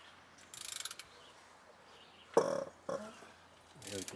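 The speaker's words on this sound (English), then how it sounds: "Just rolling it over with a ratchet on the flywheel here." A ratchet turning the flywheel on an International DT466 engine during a dump truck engine rebuild, producing short bursts of rapid clicking separated by pauses, close and fairly loud.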